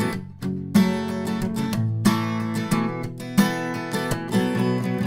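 Acoustic guitar chords for a song strummed repeatedly from the fifth string down in an uneven rhythm, each downstroke ringing bright and full, close and clear with no talking.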